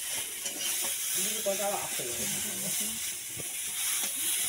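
Bright, steady sizzling hiss of shrimp frying in a pan, close up, with a voice talking quietly underneath.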